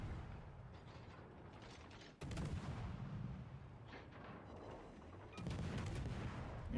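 Heavy naval gunfire rumbles through a World of Warships Legends battle, with sustained low booming and mechanical clatter and two sharp, louder salvos landing a couple of seconds apart.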